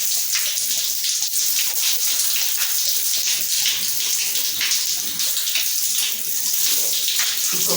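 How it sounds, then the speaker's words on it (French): Tap water runs steadily onto hair being wet for washing, a loud, continuous hiss and splash close by with no talking over it. "Vous commencez à mouiller vos cheveux, premièrement. Vous les mouillez bien, vous les hydratez avec l'eau."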